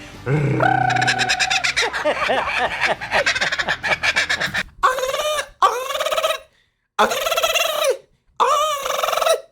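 Loud, rolling laughing calls of a laughing kookaburra, a long rapid chattering burst followed by several short, separate hooting phrases with gaps of silence between them.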